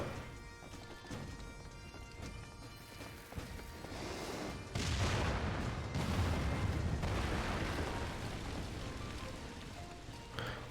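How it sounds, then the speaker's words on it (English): Booming explosions and crashing debris from Final Fantasy XIV, a loud sustained burst midway with rumbling bass and crackling noise, fading into lingering rumble. "They really like their explosions."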